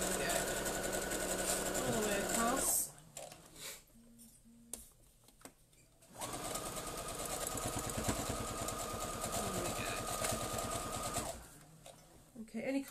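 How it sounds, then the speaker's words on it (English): A sewing machine stitches across a cathedral window quilt block in two long, close, steady runs of rapid needle chatter, broken by a short pause with quiet handling noises in between. "I'm going to stitch right the way across now"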